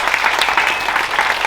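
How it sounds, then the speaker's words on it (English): Audience applause for the panelists at a gender equity panel event, a steady dense patter of clapping filling the room throughout. "please could I ask everyone to please give them a round of applause"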